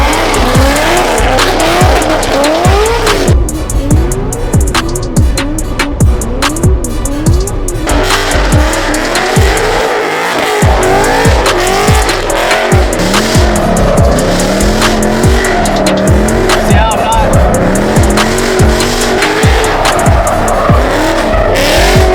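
A 700-horsepower Chevrolet Corvette C6 Z06 does donuts: its engine roars loud and close throughout, with the revs rising and falling in cycles while the tires squeal and skid almost without a break.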